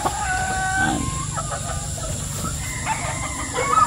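Kelso gamefowl breeder chickens on a farm cluck and crow nearby, short squawks and a crowing call rising over a low background hum, with no talking.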